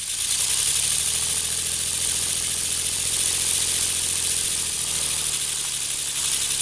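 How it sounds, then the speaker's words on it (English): A three-cylinder oscillating steam engine with a flywheel runs steadily, giving a close, continuous mechanical hum and hiss with a fine even chuffing rhythm throughout. "It's a three-cylinder oscillator"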